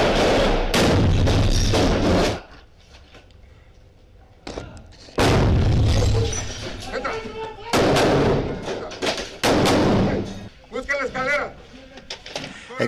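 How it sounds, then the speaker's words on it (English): Soldiers raiding El Chapo Guzman's house in Los Mochis, Sinaloa, exchange gunfire, with loud bursts of shots and heavy thuds in close, chaotic clusters, broken by brief quieter gaps and shouting voices. "Exchanging gunfire with Guzman's henchmen"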